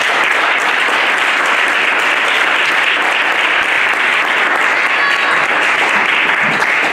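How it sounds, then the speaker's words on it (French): Church congregation applauding, a dense, loud, sustained wash of clapping from many hands that holds steady without pause. "acclamons fort pour la gloire de notre Dieu"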